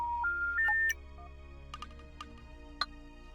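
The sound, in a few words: phone ringing in the video game The Dark Side of the Moon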